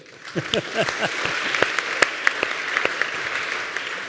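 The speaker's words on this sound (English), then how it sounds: "Another round of applause." Applause from a university forum audience fills the clip, a steady patter of many hands with a few sharper claps standing out, and a voice speaks over the start.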